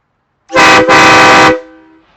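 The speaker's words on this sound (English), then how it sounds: "let's test out our triple train horn" Two loud, blaring triple train air horn blasts, a short one then a longer one, chorded and harmonically rich, ending with a brief ringing decay.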